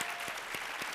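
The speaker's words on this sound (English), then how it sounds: "Let's give our workforce a round of applause." Audience at a school district address applauds the workforce, a brief steady patter of many hands clapping in a hall, moderately distant.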